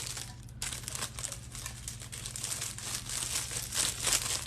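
A cellophane bag for a sublimation flask gift set is handled close up, giving continuous sharp crinkling and rustling over a low steady hum.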